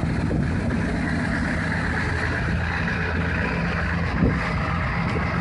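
Diesel pickup trucks, a 7.3 Powerstroke and an IDI, idling outdoors after a cold start, a steady low rumbling drone with wind noise over the microphone and no talking.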